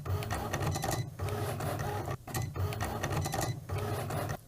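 A Cricut cutting machine works through iron-on material, its motor and carriage whirring and clicking in rhythmic mechanical bursts with short pauses, close and steady, with no talking.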